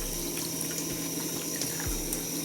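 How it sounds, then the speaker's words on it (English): Tap water runs steadily into a sink for hot and cold filling, a continuous close splashing gush with no voices. "you can either fill up the sink itself and put hot and cold water in."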